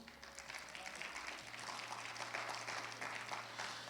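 Church congregation at a Thursday Bible study clapping for the Lord, a faint, steady spread of applause heard from a distance over a low hum.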